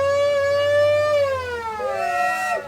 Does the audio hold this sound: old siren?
yes